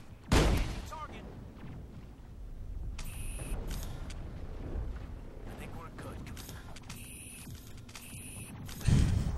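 Gunfire in the Mass Effect video game, a few sharp shots at the start and end with quieter game noise and someone talking in between.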